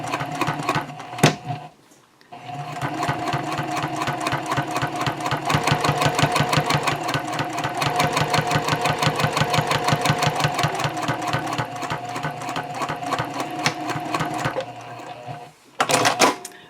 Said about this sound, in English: I'm going to ride it right along this fold to do some top stitching